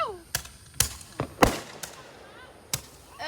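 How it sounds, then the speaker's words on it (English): Fourth of July fireworks and firecrackers popping outdoors, several sharp separate bangs spread irregularly, some louder and closer than others, with a whistling streak and faint voices in between. "got fireworks going off"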